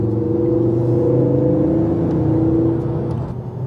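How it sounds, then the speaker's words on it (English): Ford Focus RS500 engine droning loudly and steadily while driving, a close, continuous rumble with harmonic hum that eases slightly near the end; no talking. "as you can hear, you just can't, you know, you just love the noise of the engine as well"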